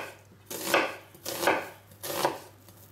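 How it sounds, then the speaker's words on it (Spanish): Onion being cut into julienne strips with a knife on a board, prepared as vegetables for a stuffed pork loin roast: three crisp, close chopping bursts at a steady, unhurried pace, with no talking. "Troceamos en juliana la cebolla y media."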